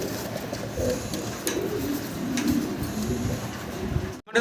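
Several caged pigeons on a pigeon farm coo in low, throaty murmurs, overlapping continuously at close range with a faint rustle of movement, no talking.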